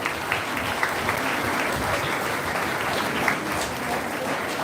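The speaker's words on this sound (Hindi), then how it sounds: "आइए उस यीशु के लिए, जिंदे परमेश्वर के लिए जोरदार तालियों से हम प्रभु को धन्यवाद करें।" A church congregation at a Love India Family Church live service claps loudly and steadily, a dense, close wash of many hands that keeps an even level, with only a few sharper claps standing out.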